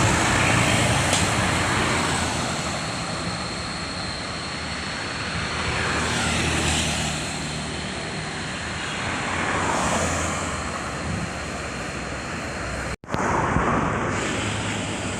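A Sugiharto intercity bus on the Jakarta–Semarang–Solo–Kudus route rumbles past on a Sumatran highway, its engine roar and tyre noise swelling and fading over about fifteen seconds before cutting off abruptly.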